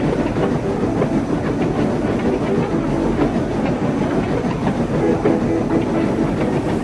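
Heavy train hauled by two engines, a loud continuous rumble with rhythmic clickety-clack of wheels over rail joints and a hissing wash throughout, close and unbroken.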